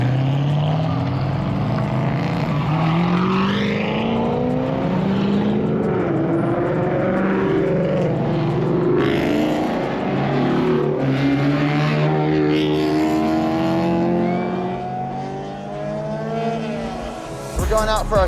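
A BMW G87 M2 pulls out onto a race track for a sighting lap, its engine note rising and shifting steadily through the gears, loud and close from inside the car, ending with a sharp knock.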